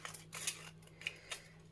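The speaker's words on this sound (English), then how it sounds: "your scissors should go through this perfectly easy" Scissors snip through a thin aluminium drinks can in a few quiet, crisp cuts with short metallic crunches, close and alone.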